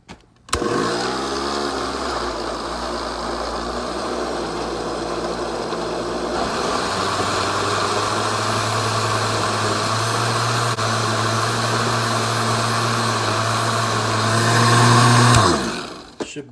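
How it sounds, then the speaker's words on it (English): A blender whirs steadily as it purees watermelon with water, a loud sustained motor drone running close up for many seconds, with the pitch shifting partway through before cutting off at the end. "I'm gonna blend it."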